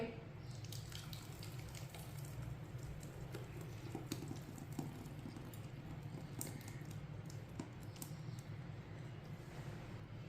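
Water poured into a pot of freshly ground mango juice, a steady splashing pour that runs without pause for the whole stretch at moderate loudness.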